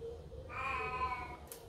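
A house cat gives a single clear meow indoors, faint but distinct against a quiet room.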